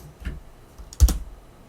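A few quick keystrokes on a computer keyboard, typing a terminal command: a light tap, then a short, slightly louder cluster of clicks close by in a quiet room.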